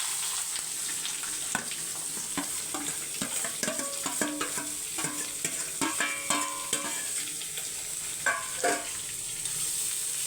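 Garlic and beetroot fry in a pan while a spoon stirs them, giving a steady sizzle broken by repeated scraping clatters close by, with no talking.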